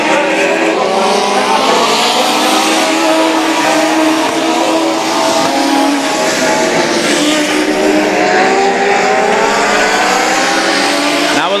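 US Legend cars race at Bethel, a pack of six engines roaring loudly and continuously with revving and shifting pitch as they pass, tires occasionally squealing.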